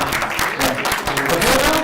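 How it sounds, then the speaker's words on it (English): An audience at a pool tournament final applauds in a short, steady round of dense clapping, with faint voices underneath. "so you can give a round of applause if you"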